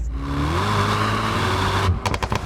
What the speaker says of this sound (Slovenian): pod njegovim pokrovom motorja pa se skriva izjemno zmogljiv in tudi glasen V8